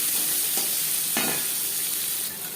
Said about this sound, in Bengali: 2-3 মিনিট পেঁয়াজ হালকা করে ভেজে নেওয়ার পর